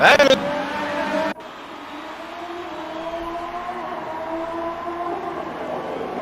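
Racing cars in a Formula 1–style video game roar off the start line with a loud, sustained, rising engine whine that continues steadily after an abrupt opening burst.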